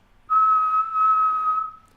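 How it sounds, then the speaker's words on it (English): A single sustained whistle, one clear high tone held for about a second and a half with a slight dip midway, loud and close in a quiet classroom, used to call students to attention. "whistle for the students' attention"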